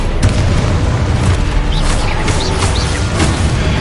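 The Confringo explosive spell goes off in the Hogwarts Legacy video game, a loud booming burst among other spell effects, dense and continuous with a few bright whooshing accents over a heavy low rumble.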